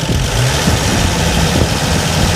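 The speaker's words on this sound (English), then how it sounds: "That's the sound of a slant six." A slant six engine idling nearby, a loud, steady rumble with an uneven low throb and no voices.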